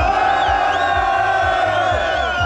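A crowd cheers and whoops loudly and continuously at the 24H VTT de Normandie mountain bike race in 2023, a dense roar of many voices close by.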